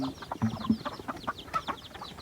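Chickens cluck in quick, overlapping bursts near a rural house at morning, busy and close among other farmyard fowl, with no talk over them.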